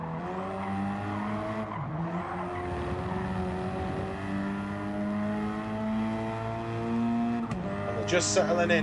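Race cars lapping a track in Gran Turismo 7 during a legends race: a continuous layered engine drone with shifting pitch and occasional tyre squeal, heard under steady commentary from a voice.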